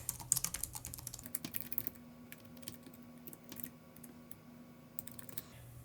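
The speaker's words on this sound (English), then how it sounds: "you can actually pair a Bluetooth keyboard with it and start typing" Someone types quickly on a Bluetooth keyboard paired with an M1 iPad Pro, making a steady patter of close, light key clicks with brief pauses.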